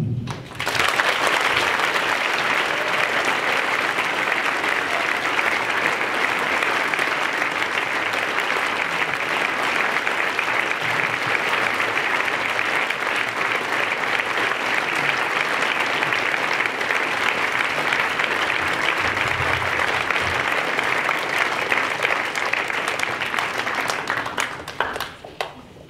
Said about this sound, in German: es muss nochmal einen großen Applaus geben für alle Beteiligten